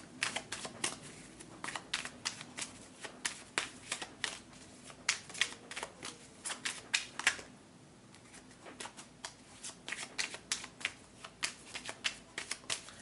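Tarot cards shuffled and flipped during a love reading, a quick run of close, crisp riffling snaps and flicks with a brief pause midway.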